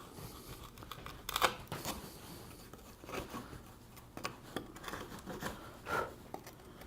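A chisel paring across a wooden workpiece clamped upright in a vise while cutting a dovetail joint, giving a series of soft, close shaving and scraping strokes in an irregular rhythm.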